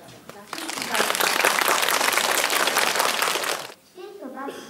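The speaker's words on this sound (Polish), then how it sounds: "Oklaski proszę." A crowd gathered for a Grandparents' Day celebration breaks into loud, dense applause that swells quickly, holds for a few seconds, then cuts off as a voice follows.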